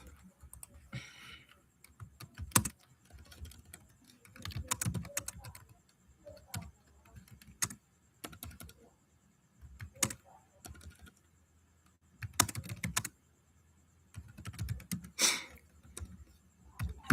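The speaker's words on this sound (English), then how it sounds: "So let me type it down." Someone typing on a computer keyboard in scattered bursts of close key clicks separated by quiet pauses, with faint murmurs of a voice in between.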